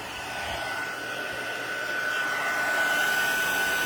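A handheld heat tool blows a steady, loud whoosh while warming a card before gluing, with a thin high whine running beneath the continuous airflow and no one speaking.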